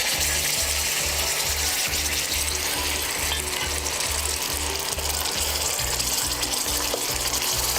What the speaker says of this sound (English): I'll fry this paste for 8 to 10 minutes until all the raw smell is gone.